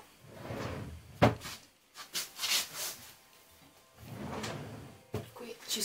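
A wardrobe drawer being opened and closed during a seasonal closet clear-out, with a sharp close thud and several sliding rumbles and bumps spread across the clip, amid quiet handling noises.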